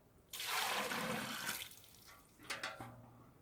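Boiling water, about 15 litres, pours onto 16 kg of honey to make bee feed. A loud rushing splash settles into softer trickling and gurgling.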